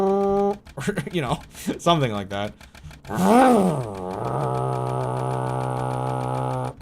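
A man vocally imitates a vehicle engine struggling to start, sputtering a few choppy bursts and then settling into a steady droning hum, mixed with a little casual talk.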